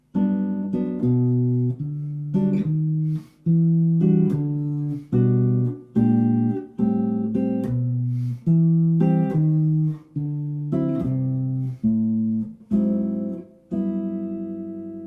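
A jazz guitar plays a steady walking bass line woven with chords at a slow, even tempo, each note plucked cleanly with no talking.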